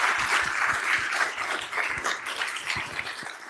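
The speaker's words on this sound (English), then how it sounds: "Big round of applause for Tom, Zuri, and Clive." Audience applause at a panel session of a sports analytics conference, a steady dense wash of clapping from a room of people, sustained and even throughout with no talking.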